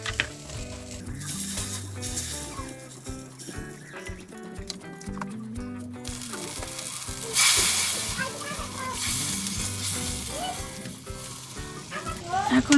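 Turmeric powder and ginger-garlic paste sizzling in a pan for a village-style drumstick curry, a continuous frying hiss with stirring and clinks, under background music that swells partway through.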